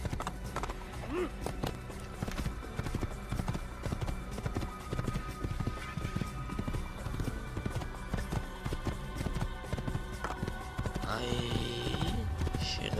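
Horse galloping in the video game Assassin's Creed, a steady run of hoof clip-clops with occasional whinnies over continuous game music and effects, with someone talking over it.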